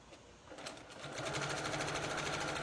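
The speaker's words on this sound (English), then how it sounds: "I'm sewing until I get to the mark" A sewing machine stitches binding onto a quilt edge, starting quietly and settling into a steady, close whirring run that holds to the end with no talk.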